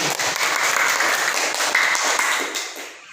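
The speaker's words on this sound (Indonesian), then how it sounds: "Ya, tepuk tangan." A classroom of students claps together in a burst of dense, fairly close applause that holds steady and then fades out near the end.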